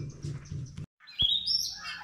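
Birds chirping and tweeting in a quiet forest village, a low murmur of background noise at first, then a brief pause before several clear, high calls ring out close by.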